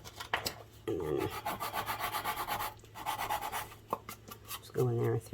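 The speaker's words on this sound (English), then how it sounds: "just go in there with your sanding tool and clean it up a little bit" A hand sanding tool rubs back and forth along the edge of a paper craft box in quick, even scratchy strokes, close and fairly loud, with brief pauses between bursts.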